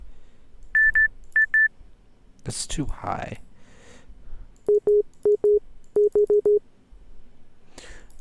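Short, evenly pitched synth beeps in clipped groups with a Morse-code-like rhythm, first higher then lower, with a brief burst of other sound in between and a voice speaking briefly.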